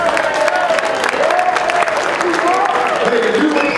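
Banquet audience at a turkey hunt auction clapping steadily, a dense, sustained round of applause with some talk mixed in.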